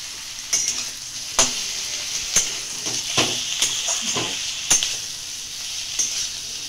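Garlic paste and onion paste fry in a pan with a steady sizzle, while a utensil stirs and scrapes in sharp, irregular clacks close by.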